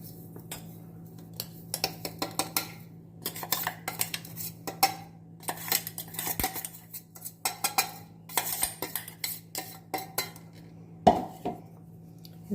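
Raw mango pieces and chili powder stirred together in a bowl for Telangana-style avakaya pickle, a busy run of clinking spoon-on-bowl knocks and scrapes in an irregular rhythm, close and clear with no talking.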